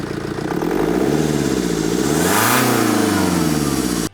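A car engine revs loudly and close by, climbing and falling in pitch twice before cutting off abruptly at the end.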